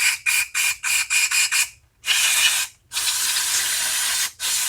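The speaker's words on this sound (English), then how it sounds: "you can spray into those jets so you can see it coming through the idle jet there" Aerosol spray hissing into a lawn mower's carburetor jets in a quick series of short bursts, then two longer sustained sprays, close and fairly loud with no talking.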